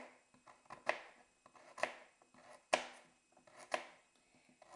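A knife chopping carrots on a board for a guinea pig's meal, with crisp close cuts in an irregular rhythm, a few louder sharp chops standing out among lighter taps.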